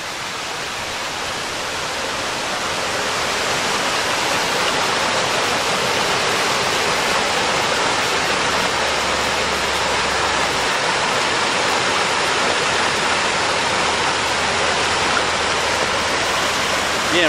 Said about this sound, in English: Here's another beautiful waterfall.